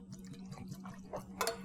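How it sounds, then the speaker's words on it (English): Bernheim wheat whiskey is poured from a freshly uncorked bottle into a glass, a brief series of quiet glugs and drips ending in a small clink, heard up close with no talking. "let's pour you a little bit."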